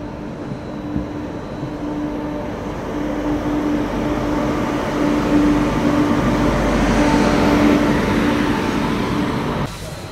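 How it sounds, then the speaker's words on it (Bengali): The Sealdah Rajdhani Express pulls out of Durgapur station, heard from inside the coach as a steady low rumble that swells gradually, with a faint sustained tone and a sharp cut near the end. "2 মিনিটই দাঁড়ালো আমাদের ট্রেন, ছেড়ে বেরিয়ে যাচ্ছি আমরা দুর্গাপুর।"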